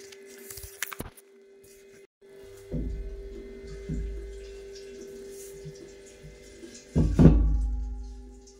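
Water sloshes and gurgles inside a heavy metal gas cylinder in several rolling surges, ending with a louder splash and thump, over a faint steady hum.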